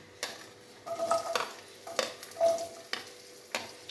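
Chopped onions frying in a hot pan give a sizzle, broken by several sharp scrapes and taps of a stirring spoon against the metal.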